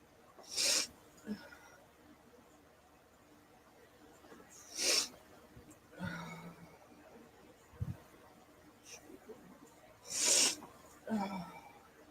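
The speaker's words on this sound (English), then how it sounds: "I do not know why I got a case of the sneezies." Three quiet sneezes spaced several seconds apart, with faint sniffs and small sounds between them in a hushed room.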